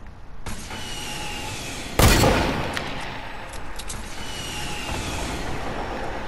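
A video-game rocket launches and explodes with a sharp, loud blast, then rumbles as it decays. A steady hiss of background noise runs before and after the blast.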